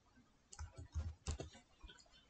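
Keys clatter on a computer keyboard in quick irregular bursts of clicks, close and fairly quiet, with no voices.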